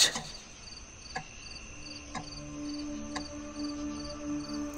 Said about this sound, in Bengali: বাইরে থেকে ভেসে আসছে ঝিঝি পোকার আওয়াজ।